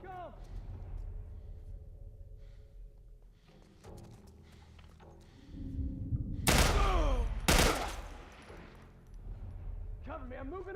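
Rapid gunfire from The Last of Us Part 1 game, two loud bursts of quick shots in the middle amid game noise, with people talking before and after.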